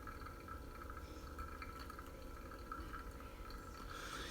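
Pour-over coffee drips steadily through a Hario dripper into a glass vessel, a soft continuous trickle and patter of liquid, close and quiet, with no talking.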